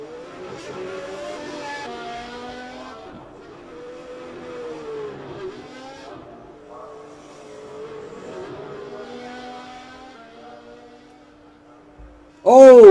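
A touring car engine laps the Hungaroring during free practice, its revs rising and falling through gear changes at moderate level, then a sudden loud, high-revving burst near the end.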